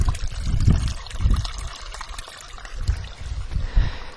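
A small stream trickles and gurgles steadily near the entrance to a rocky site in France, with soft, uneven splashes rising and falling close by.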